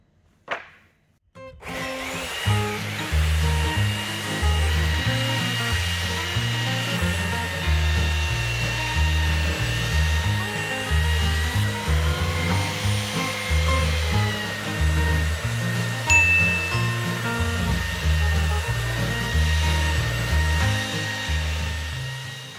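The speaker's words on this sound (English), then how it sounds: "I'll next use my belt sander to get rid of the years of dirt and grime from the boards" A belt sander whirs steadily and loudly for the whole stretch, its grinding drone steady with slight wavering as it works across old, dirty floorboards more than 100 years old.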